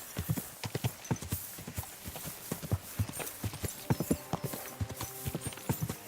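Hooves clip-clop at a steady walking rhythm, close and distinct, with a faint whinny partway through, from a horse in the video game Kingdom Come: Deliverance II.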